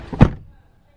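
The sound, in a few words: Lamborghini Urus door closing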